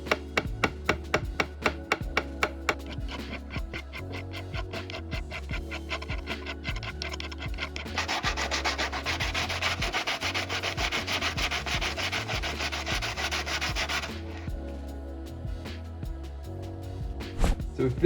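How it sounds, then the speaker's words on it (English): Sandpaper rubs back over freshly hand-engraved metal in quick repetitive strokes, near and steady, growing denser and more continuous in the middle stretch before easing off. "I'm feeling pretty confident this is all going to pop straight back up as soon as we start sanding it back."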